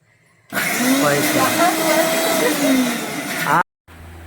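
A mixer grinder whirs loudly and steadily for about three seconds, then cuts off abruptly, leaving quiet room noise.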